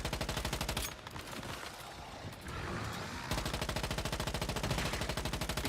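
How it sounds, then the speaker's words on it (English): Rapid automatic gunfire from a video game boss fight, loud and continuous with dense repeated shots, briefly thinning into a rougher burst mid-clip before the steady rattling resumes. "Go shooting the boss because the boss makes my bullets stronger."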